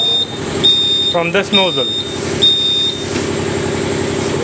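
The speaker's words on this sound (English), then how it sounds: "As soon as I take it off, it is going to give an alarm." A grinding machine measuring distance gives its alarm as a bright, steady electronic beep, heard in short repeated bursts over a continuous machine hum while someone talks briefly.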